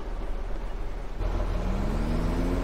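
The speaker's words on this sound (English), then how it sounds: "Man, that truck's slow starting." Truck engine in Farming Simulator 17 sluggishly starting, a low rumble that jumps in loudness midway and settles into a steady idle with a faintly rising hum.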